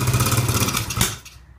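A 1984 Honda XR80 dirt bike engine fires up and runs with a loud, close, rapid chugging putter, then cuts out and fades toward the end.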